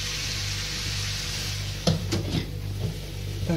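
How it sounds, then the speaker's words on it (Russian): A lid is set down on a frying pan holding a mountain of shredded cabbage, giving a couple of short metallic knocks and clatters over a soft steady sizzle from the stove. "Сейчас я крышкой закрою."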